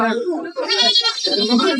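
Goats bleating at the Ashulia cattle market, a few wavering, nasal bleats close by, mixed with people talking.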